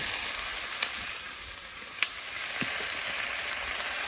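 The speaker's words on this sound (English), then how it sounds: "you're gonna add in your meat and stir fry it for about" Meat stir-fries in hot oil for carne guisada, a continuous close sizzle with a few sharp clicks of a utensil against the pan.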